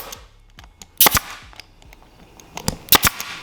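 A staple gun drives staples into seat upholstery on a Sea-Doo Challenger 1800 boat, giving sharp, close snaps in small clusters over a quiet background.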